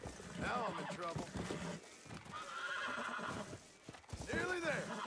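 In Red Dead Redemption: Undead Nightmare, a horse lets out two sharp whinnies, one early and one late, amid clopping hooves while someone talks.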